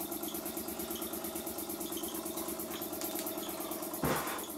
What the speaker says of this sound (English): I was surprised how long the engine ran just on the residual heat of this very small boiler.